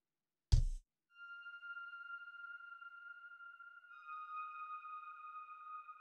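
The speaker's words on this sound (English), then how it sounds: "Sounds like a typical saw wave reverb sound." A sharp click, then a sustained buzzy synth tone that holds steady and shifts pitch once, soft and washed in reverb.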